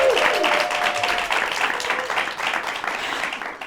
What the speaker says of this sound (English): So let's clap for Representative Lashawn Ford.